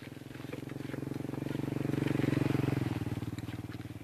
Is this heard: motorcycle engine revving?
yes